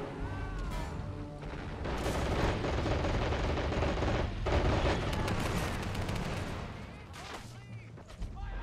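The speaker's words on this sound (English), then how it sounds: "So they start shooting." Sustained gunfire and explosions from the video game Men of War 2: Assault Squad 2, with bursts of shots and booms running through the whole stretch at a dense, loud level.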